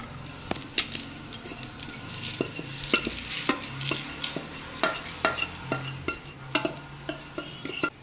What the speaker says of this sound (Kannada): ಈಗ ಒಣಮೆಣಸಿನ್ಕಾಯನ್ನು ಫ್ರೈ ಮಾಡ್ಕೊಳ್ಳೋಣ